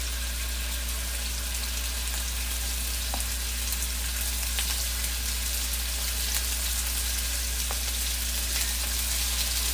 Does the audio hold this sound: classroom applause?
no